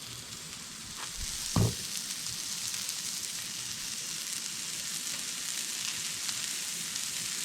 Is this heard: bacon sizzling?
yes